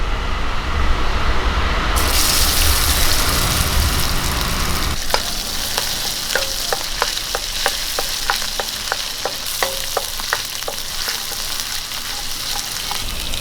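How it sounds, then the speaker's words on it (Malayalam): Crushed ginger and garlic hit hot coconut oil in a pan and start a loud, steady sizzle and crackle, joined by a run of sharp, rhythmic clicks of a spoon stirring against the pan. "നമുക്കൊരു രണ്ട് സ്പൂണ് വെളിച്ചെണ്ണ ഒഴിച്ചു കൊടുക്കാം ഒരു സ്പൂൺ ഇഞ്ചി വെളുത്തുള്ളി ചതച്ചായി ഇട്ട് കൊടുക്കാം"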